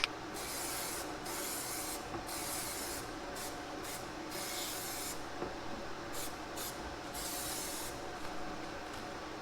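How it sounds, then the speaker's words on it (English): A spray paint can hisses steadily into a box in repeated bursts with brief pauses between, close and fairly loud. "I spray into the box and it keeps the overspray from getting out of the box."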